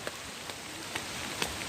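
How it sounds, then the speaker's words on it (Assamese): Rain falling at Krang Shuri waterfall, a steady soft patter spread evenly throughout with a few brief louder drops standing out, quiet and close, with no voices. "ইয়াতে বৰষুণ দি আছে"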